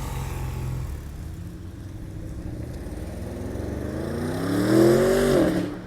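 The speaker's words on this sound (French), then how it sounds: "RSQ8 avec toute une préparation. Plaque suisse. Alors je connais pas le kit, je saurais pas vous dire. Mais il fait un boucan du diable." A tuned Audi RS Q8 with an aftermarket exhaust roars past close by, its engine note building and swelling to a loud peak before fading as it moves off.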